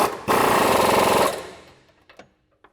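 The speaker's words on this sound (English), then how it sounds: "you can take your 22mm wrench and socket and tighten this down" A 22mm wrench and socket tightens a bolt on a 2022-2024 Toyota Tundra's lift-kit suspension: a loud, close burst of rapid rattling for about a second, then fading, followed by a few light metallic clicks.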